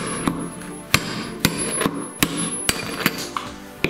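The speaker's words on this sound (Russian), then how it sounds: "Выбиваем подшипники." Hammer knocking bearings out of the drum of an Indesit or Ariston washing machine with a non-separable glued tub, about ten sharp metallic blows at an uneven, steady pace, close and clear.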